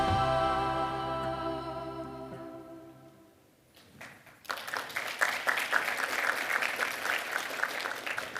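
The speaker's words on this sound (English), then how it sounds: "Thank you for the gratuitous clap." An audience breaks into applause at a keynote about Mazda, swelling into steady, dense clapping from a large crowd after a sustained musical tone fades out.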